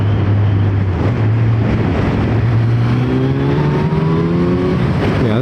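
A Kawasaki Z900 motorcycle pulls hard in fourth gear, its engine note climbing steadily under heavy wind rush, loud and continuous from the rider's position.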